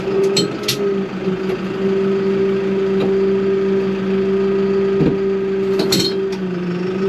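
A Farmtrac 9120 DTV tractor idles and creeps in reverse, its diesel engine giving a steady, close drone with a strong low hum and a few faint knocks.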